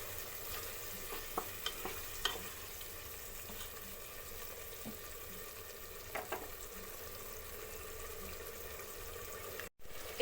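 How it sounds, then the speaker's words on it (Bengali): Chicken curry masala stirred in a pan with spice-rinse water, a quiet steady sizzle with occasional soft scraping taps of the spoon. "নাড়াবো।"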